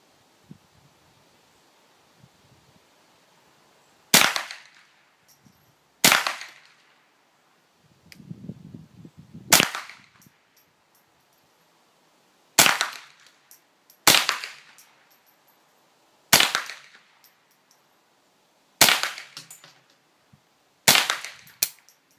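A JW-14 gun fires at a target outdoors: eight sharp shots, loud and close, spaced a couple of seconds apart, with brief rustling between them and no voices.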